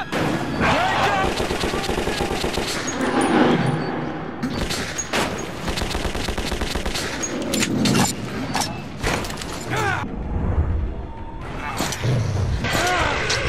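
Gunfire rattles almost nonstop in the video game Metro 2033, with dense, loud shots and booms mixed with frantic shouting voices throughout.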